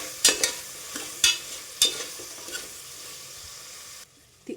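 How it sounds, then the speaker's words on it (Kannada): Ground jackfruit seeds frying with onions in a pan, a steady close sizzle broken by several sharp scraping stirs, then cutting off abruptly near the end. "ಇದು ಹಾಕಿ ಸ್ವಲ್ಪ ಫ್ರೈ ಮಾಡ್ಕೊಳ್ತೀನಿ"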